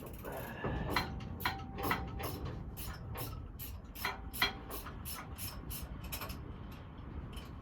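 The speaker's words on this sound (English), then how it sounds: "So anyway, I almost got this bolt out." A wrench works a bolt loose on a 1965 Chevrolet C10 fuel pump, giving a rapid series of light metallic ratchet clicks in a steady rhythm, close by, with faint background noise.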